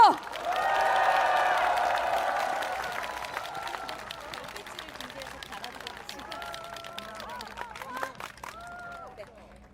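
Rally crowd applauding for bereaved families, a loud wash of clapping and cheers that fades steadily, with voices and babble continuing underneath.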